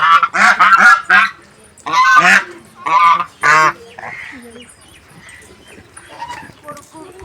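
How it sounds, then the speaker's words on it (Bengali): Two ducks call near a banana grove and mustard field by the Ganges, a run of loud honking quacks in quick bursts, then quieter scattered calls, with a person talking nearby. "এই দুটো হাঁস এখানে রয়েছে, ডাকাডাকি করছে।"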